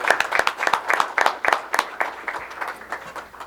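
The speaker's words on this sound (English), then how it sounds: "Let's give her a big round of applause and welcome her." An audience at a school board meeting applauds, giving a fairly small crowd's brisk, rhythmic clapping that stays steady and then gradually thins out.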